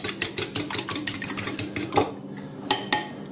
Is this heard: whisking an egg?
yes